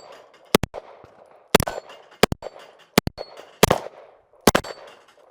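A TTI Canik pistol fires at a shooting range: six sharp, loud gunshots in pairs and singles roughly a second apart, each followed by a brief ringing echo.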